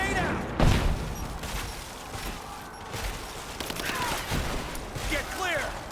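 Rapid gunfire and a heavy blast burst through a Tomb Raider firefight, the loudest crack landing early, with combat chatter and shouting voices layered over the shooting.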